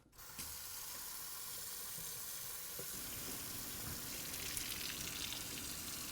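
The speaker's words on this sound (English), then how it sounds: "Now you're going to want to fill the sink with warm water." Steady broadband rush of warm water pouring into a laundry sink, continuous and fairly loud throughout with no talking.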